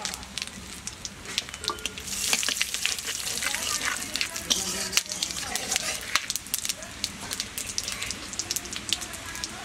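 Whole cumin, cinnamon, cloves and cardamom frying in hot oil give off a dense, crackling sizzle with rapid popping throughout, close and steady.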